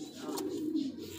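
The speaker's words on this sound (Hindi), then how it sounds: "ये लाल है, लाल, ये लाल कबूतर है जी।" A soft, low coo from a red pigeon rolls briefly and close by, with faint background noise.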